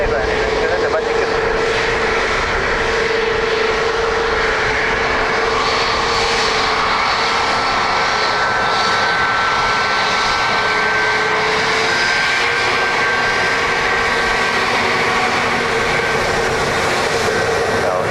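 A TAP Air Portugal Embraer E190 jet roars steadily nearby at Dublin Airport, its engine noise broad and continuous for the whole stretch, with a faint whine layered on top and occasional distant voices in the background.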